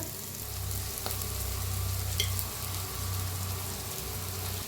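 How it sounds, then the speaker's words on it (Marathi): Red chilli powder and spices frying in hot oil in a pan for an onion dal, a continuous close sizzle and crackle with occasional small pops and a brief stir, no voices. "गरम मसाला 1 चमचा, भाजून घेऊया"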